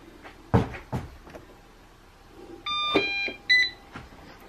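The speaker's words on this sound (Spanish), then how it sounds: "cuando lo pones a cargar te da los cuatro pitidos" A short series of four high electronic beeps, a Conga 890 robot vacuum's charging error signal, tonal and steady, preceded by a few faint clicks and knocks in a quiet room.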